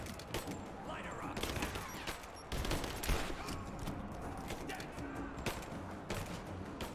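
Dense, rapid gunfire rattles almost nonstop in the video game Rise of the Tomb Raider, close and loud volleys overlapping in a chaotic firefight.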